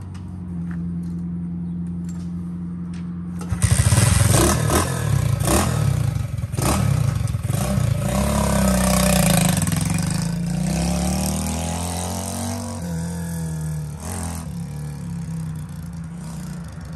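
A Honda SL70 motorcycle fitted with a Lifan 125 engine idles unevenly, then starts up loudly and is ridden around a parking lot, revving and shifting up before easing back toward idle.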